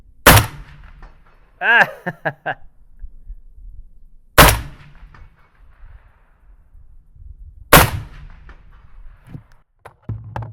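Three loud, sharp shots ring out several seconds apart in a shooting video game, aimed at a modular hostage target, with a brief exclamation and a few softer clicks and knocks between them.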